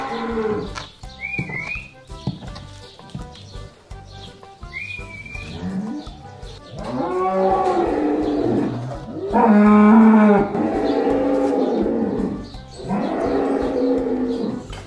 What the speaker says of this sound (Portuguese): Olha, gente, belezinha, os bezerrinhos.